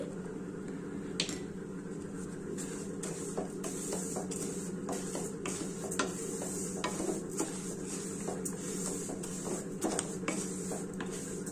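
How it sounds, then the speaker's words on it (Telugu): Rice and turmeric frying and being stirred in a pan for Telugu-style fried rice khichdi, with a steady low sizzle and repeated sharp clicks and scrapes of a spoon against the pan throughout. "ఇప్పుడు పసుపు వేసి వేయించుతానండి"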